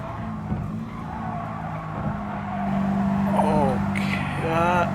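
A 4WD Lancer in Gran Turismo Sport brakes hard on the Tokyo Expressway, its tires squealing and skidding in long screeches over a revving engine, with someone talking.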